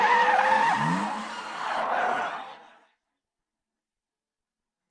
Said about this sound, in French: un soir, elle a fait une course de voiture et a eu un accident